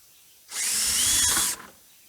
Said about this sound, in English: I drill in at 4 inches right there.